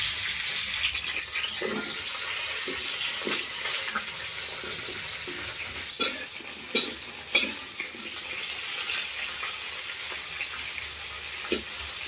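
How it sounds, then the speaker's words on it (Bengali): Sliced okra frying in hot oil in a heated pan for dahi bhindi, giving a soft, steady hiss with a few sharp utensil clinks near the middle, no voices. "কড়াটা গরম হয়ে গেছে, তেল দিয়ে ভেজে নেব।"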